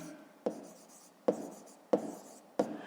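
Chalk or marker writing on a board during a fifth-grade maths lesson: four quick, sharp strokes spaced about a second apart, each with a short scratchy tail, close and moderately quiet with no talking.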